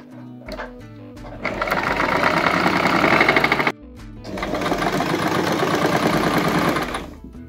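Household sewing machine running in two long bursts with a foot pedal pressed, a steady loud mechanical whir with rapid needle clatter, briefly pausing midway before starting again, with no talk.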